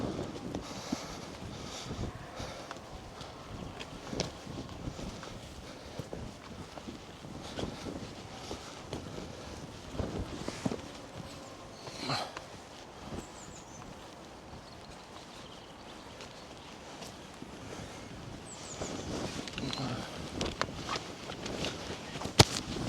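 Gusty wind buffets the microphone on an open Lake District fell near Little Mell Fell, a steady broadband rush with scattered bumps and rustles, no voices, growing slightly stronger toward the end.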